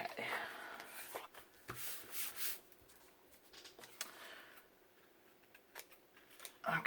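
Scissors cut through cardstock at close range, making quiet snips and papery rustles in an uneven rhythm, faint overall, with soft rubbing and handling noise between cuts.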